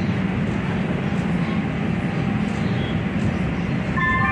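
Steady rumble of a moving train heard from inside the car near San Pedro Street Station, a continuous low drone with rattling that holds level throughout and a brief tonal squeal near the end.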